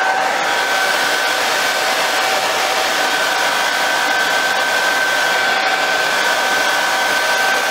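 A hair dryer blows warm air over a dew-covered telescope and its diagonal mirror, a loud, steady, close whooshing roar with a thin constant whine that runs unbroken throughout, with no voices.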